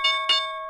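A stock market bell rings during a live day-trading session, two sharp clangs in quick succession with a bright sustained ringing tone that decays slowly.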